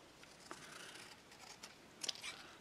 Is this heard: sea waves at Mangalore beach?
no